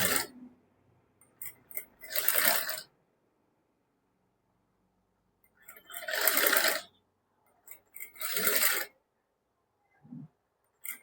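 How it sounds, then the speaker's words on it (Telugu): A sewing machine stitches along the piping of a princess-cut blouse in four short bursts of rapid stitching separated by silent pauses, close and clear, with a faint clink at the end. "ఇదిగోండి పైపింగ్ ఉన్న దగ్గర నేను స్టిచ్ చేస్తున్నాను చూడండి."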